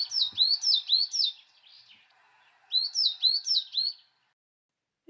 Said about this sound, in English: The coal tit also has a loud and simple song, given faster than a great tit